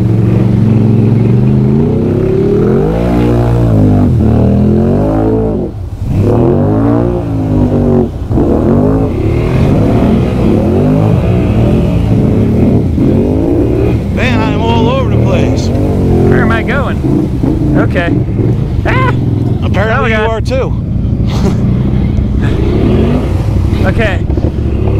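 A 2020 Can-Am Outlander 650 XMR ATV with an STM secondary clutch revs hard through a swamp, loud and close, its engine note rising and falling in repeated surges over about 25 seconds.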